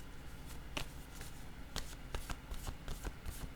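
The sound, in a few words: tarot cards being shuffled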